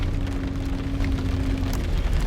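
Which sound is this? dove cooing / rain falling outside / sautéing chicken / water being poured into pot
rain falling outside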